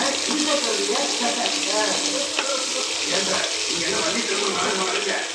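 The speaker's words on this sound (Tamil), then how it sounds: "வெங்காயம் போட்டு நல்லா வதக்கலாம்" Onions sautéing in a pan for a sweet fish dish, a steady close sizzle with stirring clatter and a brief clink, running continuously without talk.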